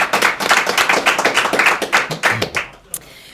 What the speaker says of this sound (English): Can we get some applause for him